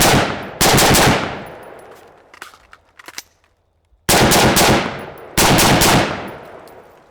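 Rifle shots ring out at close range on a shooting course, a quick burst of rapid rounds, a pause filled with metallic clicks of reloading, then two more bursts.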